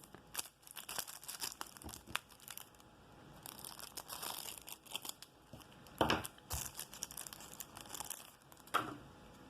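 Plastic wrapping torn open around a single trading card, a Legendary Duelists season 2 card: close, continuous crinkling and crumpling with sharper tearing bursts near the end, no talking.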